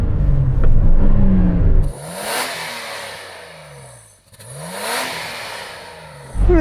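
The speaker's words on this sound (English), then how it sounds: "would you mind just revving up that standard Nissan Patrol, please?" A Nissan Patrol engine revs up twice in long, rising swells with a throaty exhaust note, each rev falling back toward idle, loud and nearby.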